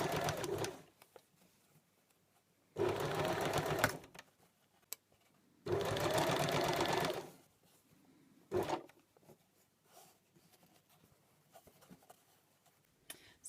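A sewing machine stitches a neckline facing in two steady, buzzing runs of about a second each, separated by pauses with faint fabric handling and small clicks.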